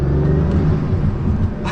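Inside the cabin of a Bugatti Veyron, the engine and turbos give a steady, loud low rumble with a faint whirring layer above it, constant throughout with no voices.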